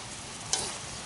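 Sea fish frying in a hot pan in a home kitchen, a steady quiet sizzle and crackle of oil with one brief sharper spit partway through, no voices.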